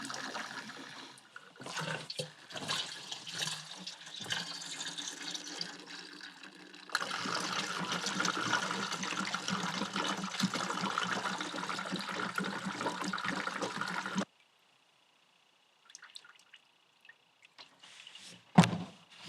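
Twenty liters of liquid pour steadily into a container, a rushing, gurgling fill that builds and holds for several seconds, then cuts off, followed by a few faint drips and handling noises.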